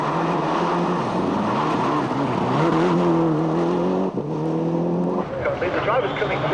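A rally car at the 1996 Network Q RAC Rally drives through, its engine noise rising and shifting as it passes while a commentator talks over it throughout.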